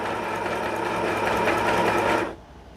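A Dechow portable sewing machine stitches a loose zigzag in one fast, continuous mechanical whir, close and loud, then cuts off abruptly near the end.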